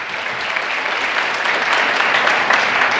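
An audience at the Lenovo Transform NYC 2017 corporate event claps in a steady, dense burst of applause that stays loud and even from start to finish.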